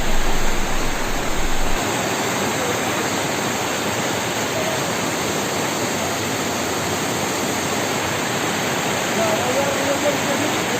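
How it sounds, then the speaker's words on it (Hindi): River water in Sultanpur flowing after overnight rain, a loud, continuous broadband rush that stays steady throughout, the surge slightly stronger at the start. "ये जो नदी आप देख रहे हैं सुल्तानपुर की नदी, ये पानी जो बह रहा है"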